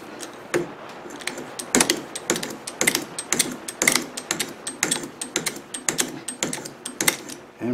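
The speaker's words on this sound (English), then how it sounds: "what I have to do is just a whole lot of back and forth with this lever until I get it cut to the right depth" A hand lever on a gear-cutting setup is worked back and forth, making a rapid series of sharp clicks and clacks in an irregular, busy rhythm, close by and with no talk.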